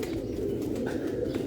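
Close, low cooing from a pigeon, a soft continuous throaty murmur with a slight rise midway, heard alone.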